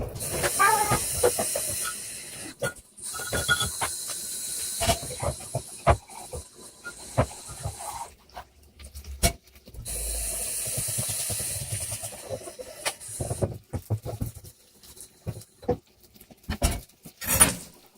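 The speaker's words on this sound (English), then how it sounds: "I better get these dishes out of the way. Dishes montage." Dishes being washed at a kitchen sink during cooking: bursts of running tap water hissing, with scattered clinks and knocks of crockery and utensils, and a quieter gap in the middle.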